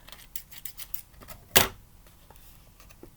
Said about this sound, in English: I'll cut this excess off